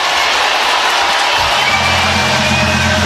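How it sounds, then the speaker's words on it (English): Big-league ballpark crowd at a Red Sox–Yankees game, a broad sustained roar of cheering and whoops filling the space, swelling slightly as a low steady tone enters midway. "try listening to the crowd getting into it"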